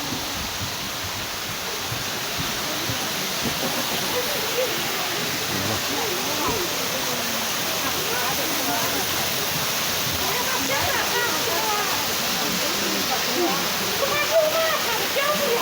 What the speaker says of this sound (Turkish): Gördüğünüz gibi küçük şelaleler oluşturulmuş.